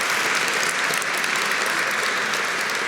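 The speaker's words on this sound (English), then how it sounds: "Let's give him a round of applause" Sustained applause from an audience at a Black History Month celebration in Cleveland, honoring the mayor and his team. It is dense, steady and fairly loud throughout, with no voices over it.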